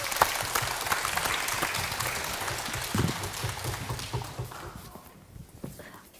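An audience applauds at a children's composers' concert at Uijeongbu Arts Center, with a dense wash of clapping hands that holds steady and then gradually thins and fades away.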